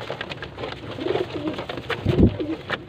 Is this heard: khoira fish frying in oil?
no